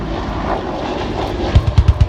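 Apache attack helicopter at an air show display, a steady loud rotor and engine roar that swells into a run of deep rhythmic thumps near the end, with no talking.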